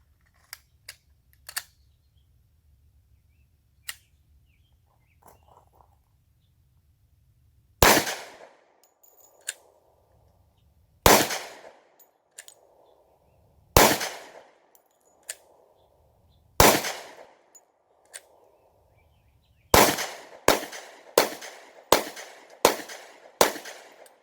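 Sharp, loud gunshots from a Polymer 80 build styled on a Glock 20 10mm pistol firing S&B ammunition, first several single shots spaced apart, then a quick string of five rapid shots at the end, with faint clicks and handling noises early on.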